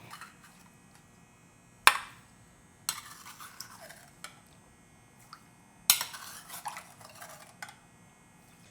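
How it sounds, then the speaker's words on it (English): A fork scratching frozen sikhye, Korean rice punch, into granita: several sharp scraping bursts separated by quiet pauses, close and fairly faint, with small clinks in between. "Using your fork and then just scratch."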